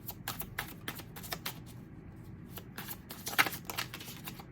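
Tarot cards shuffled by hand during a reading, a quick run of soft papery riffles and flicks in irregular bursts, close and quiet with no talking.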